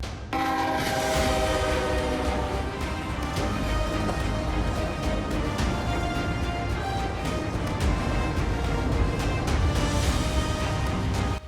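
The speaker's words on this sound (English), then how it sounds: "Despite the train sounding its horn and moving at just 30 kilometers per hour" A loud, sustained train horn blares over the rumble and clatter of a train passing at about 30 km/h, continuous and close for the whole stretch.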